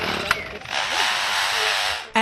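A 30-year-old lyrebird called Chook mimics a chainsaw, producing a loud, continuous buzzing roar that holds steady for well over a second before cutting off, preceded by a brief click.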